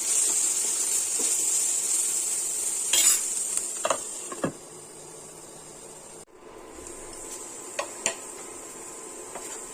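Salted vegetables being stirred in a pan over a steady hiss of cooking steam, with occasional close utensil scrapes and knocks against the metal and one brief drop in the background hiss midway.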